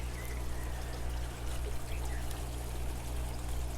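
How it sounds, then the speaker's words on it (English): Water pours steadily into an aquaponics grow bed through a small filter, a constant splashing trickle at moderate level with no talking. "I have my water coming down."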